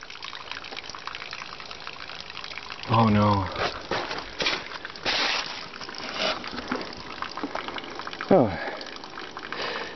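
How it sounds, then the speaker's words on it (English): Water runs and gushes inside a leaking camper at an off-grid site in snowy winter, a steady splashing flow heard close by while a person reacts with brief exclamations. "Yeah, water's running in a bad way inside the camper."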